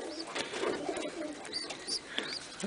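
Racing pigeons in a loft with a baby pigeon, giving soft low coos and chirps over a steady busy background, close and moderately loud.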